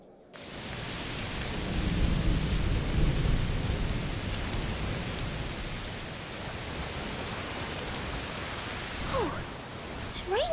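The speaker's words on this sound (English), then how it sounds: "Raining a lot? Yes. Must be a heat storm." Heavy rain from a heat storm in A Plague Tale: Requiem pours steadily in a dense hiss, with a low thunder rumble swelling early on and a few faint chirps near the end.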